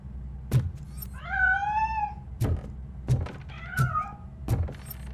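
A cat meows twice in the video game Robocop: Rogue City, long wavering cries at mid-distance, set between heavy rhythmic mechanical thuds that keep on under them, with no talking.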